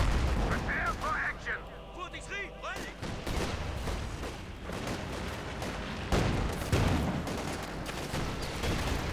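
Grenade assault in Company of Heroes 2 amid a battle with T-34 tanks, a dense barrage of sharp bangs and gunfire bursts rolling through steady battle noise, with a voice talking over it.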